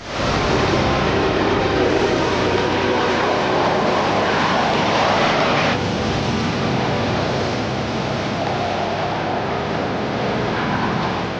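An F-16 fighter jet flies past with a loud, continuous roaring engine rush that fills the whole stretch, slowly shifting in tone as it passes, with no voices.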